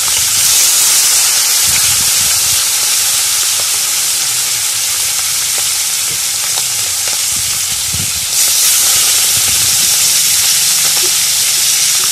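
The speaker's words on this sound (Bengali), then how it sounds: "কড়াইতে তেল গরম দিয়ে দিয়েছি এতে পাঁচ ফোড়ন দিয়ে দিলাম" Loud, continuous sizzling hiss of panch phoron spices frying in hot oil in a kadai, with scattered small crackles, steady throughout with no voices.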